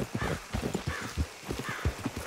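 Horse hooves clip-clopping in the video game Red Dead Redemption 2, a steady run of close, thudding hoofbeats under a faint ambient bed, with no voices.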